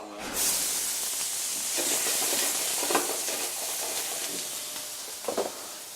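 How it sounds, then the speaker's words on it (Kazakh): Vegetables fry in melted butter in a hot pan, giving a steady close sizzling hiss broken by a few brief louder spatters as the pieces are stirred. "Сарымайымыз ерігеннен кейін бұған көкөністерді салып қуырамыз"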